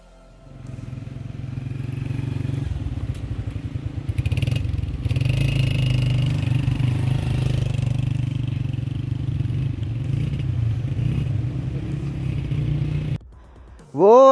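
A motorbike carrying two riders labours up a narrow, rocky mountain track in Rama Valley near Astore. Its engine drones low and steady, with clattering jolts and a few throttle surges, before it cuts off abruptly near the end.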